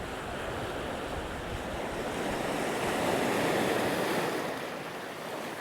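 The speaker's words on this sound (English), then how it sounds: "Now it does get some fairly good sized waves compared to some of the beaches on the island" Ocean waves roll in at Bamboo Beach on Koh Lanta, Thailand, a continuous surf wash with wind buffeting, swelling louder for a moment midway and then easing back.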